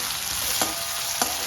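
Tomatoes with salt sauté in a pan, a dense, even sizzle heard up close, broken by two brief scraping stirs.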